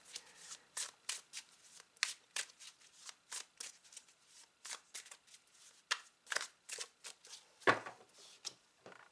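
A Stolen Child Tarot deck shuffled by hand, steady rhythmic papery riffles and slaps repeating close and clear over several seconds, with one louder thump near the end and no voice.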